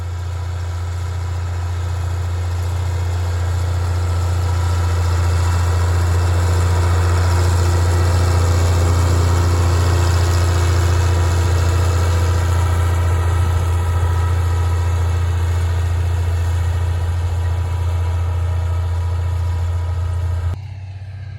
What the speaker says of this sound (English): That tractor, since it doesn't have the hydro, it's a lot quieter transmission